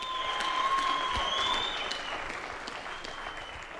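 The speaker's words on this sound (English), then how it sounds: "Let's give both of these boxers a big round of applause." A crowd at a boxing event in the Victory Theatre, Houghton Estate, applauds steadily after an eight-round fight, the clapping holding loud then slowly tapering, with a faint ringing tone over it.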